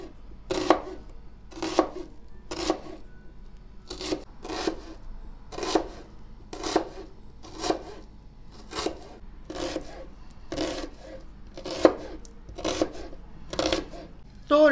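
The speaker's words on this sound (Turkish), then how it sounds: "Şimdi soğanlarımı piyazlık doğrayarak yemeğimizin yapımına başlıyorum." Onions being sliced into thin half-moon strips on a cutting board, a steady series of about fifteen crisp knife chops at a fairly regular pace, close and clear with no talking.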